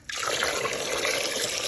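Tap water gushes into a container that had held kitchen scraps for trench composting, a steady close splashing rush that starts abruptly and keeps flowing.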